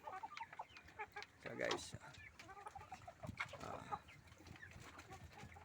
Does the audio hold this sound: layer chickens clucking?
yes